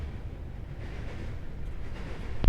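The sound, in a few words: passing train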